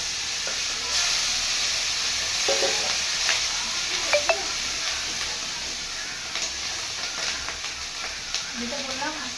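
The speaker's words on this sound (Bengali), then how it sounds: "খুব ভয় লাগে এই ডিম ভাজতে গেলে, ছিটকে আসে বড্ড" An egg fries in plenty of oil in a wok, giving a steady loud sizzle with scattered pops and spits and occasional scraping, while someone talks quietly over the cooking.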